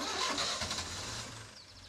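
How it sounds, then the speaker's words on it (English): An LPG-fuelled engine fitted with an H+ hydrogen fuel system runs steadily close by, a continuous mid-pitched mechanical drone with a low rumble and no speech. "Without the H+ system in operation, this engine is consuming 100 cubic feet of LPG per hour."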